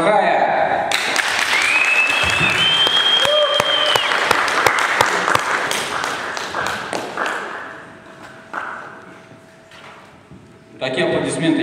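Applause and cheering from a crowd at a poetry reading, loud at first and gradually thinning out, with voices over it and a brief burst again at the end.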